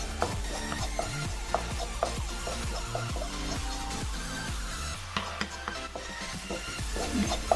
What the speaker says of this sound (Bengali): শুকনো খোলায় ভালো করে ভেজে নেব কাঁচা বেসন না দিয়ে একটু এইভাবে ভেজে নিলে দিলে খুব ভালো হয়